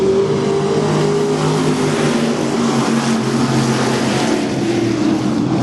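UMP dirt late-model race cars at I-55 Raceway roar off the green flag together, a loud, dense blend of revving V8 engines holding steady as the pack accelerates.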